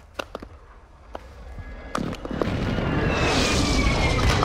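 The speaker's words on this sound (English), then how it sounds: "Friendly precision airstrike inbound." Precision airstrike explosions in Call of Duty Warzone 2.0: several sharp blasts early on, then a building roar and rumble of impacts and debris that grows louder toward the end, with no talk.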